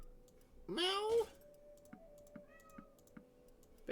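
A pet cat meows once, a loud rising-and-falling cry near the microphone, followed by faint clicking and a softer short chirp, heard while a PC game is played.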